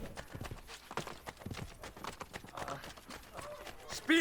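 Horse hooves gallop in Assassin's Creed Brotherhood, a quick, steady clip-clop rhythm at moderate level, with faint voice murmurs underneath.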